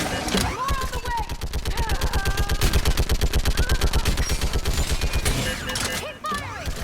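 Sustained rapid automatic gunfire from a battle in the video game Mass Effect 3, loud, dense bursts running almost continuously for several seconds, with shouted voices and game effects mixed in.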